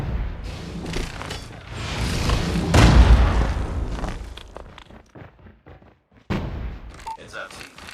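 Grenade detonating in an online first-person shooter match, a heavy booming blast with rumbling tail amid game noise and player voices, followed by a sharp thud.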